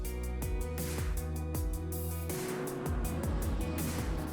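A Ford Mustang GT3 race car in the sim racing game Assetto Corsa Competizione runs through its gears, the loud engine note climbing and then dropping sharply at several shifts, with no voices over it.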